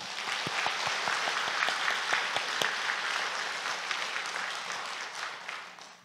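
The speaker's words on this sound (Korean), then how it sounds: "우리 수고하신 모든 분들 수고하셨다고 한번 뜨겁게 다시 박수 한번." A church congregation at a year-end Sunday service at Dobong Methodist Church applauds warmly. The even, moderately loud clapping carries a few sharp individual claps early on, then gradually fades away.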